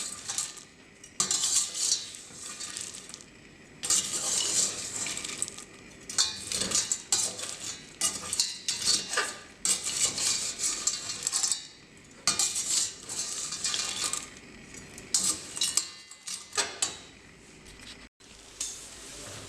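Carob being stirred into caramelizing sugar in a pot, with a spoon scraping and clinking against the metal in irregular bursts and a faint sizzle underneath, close up with no talking.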